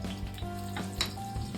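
Butter and olive oil sizzle in a pan over medium-high heat, a soft, close crackle with scattered small pops, fairly quiet and steady throughout, with no voices.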